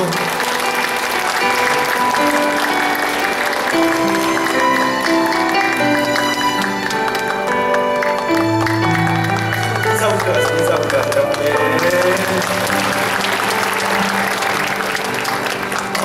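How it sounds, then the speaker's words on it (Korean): A church congregation claps in blessing during a flower presentation, steady applause running throughout while organ or keyboard music plays underneath. "꽃다발 나눌 때 함께 한번 축복의 박수"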